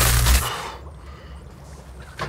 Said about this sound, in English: Let's find out what happens when we activate the spider bomb.